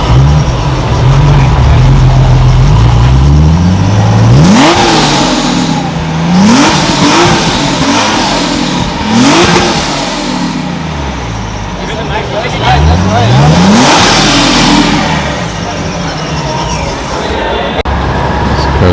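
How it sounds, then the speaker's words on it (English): A widebody Ford GT500 on carbon fiber wheels revs repeatedly at a car meet, with sharp rising blips and an idling rumble between them, loud and close above crowd chatter. "GT500 with the carbon fiber wheels"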